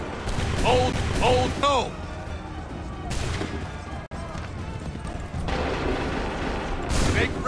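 Musket volley gunfire in a battle from the video game Assassin's Creed III, with sharp repeated bursts and rumbling booms mixed under shouted orders and battlefield commotion.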